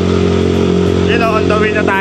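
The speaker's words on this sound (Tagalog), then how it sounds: "medyo maingay lang yung motor ko" A motorcycle engine idles with a loud, steady rumble, and a voice speaks briefly over it toward the end.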